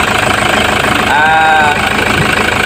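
A loud, steady Toyota Fortuner engine idle after turbo cleaning, with a low rhythmic throb and a brief turbo-like whine rising over it midway.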